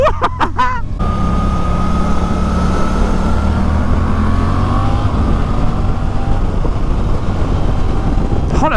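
A Suzuki GSX-8S motorcycle pulls away under steady acceleration on an open road, its engine note climbing through the gears as a loud, continuous drone with rising whine, close to the rider and without speech.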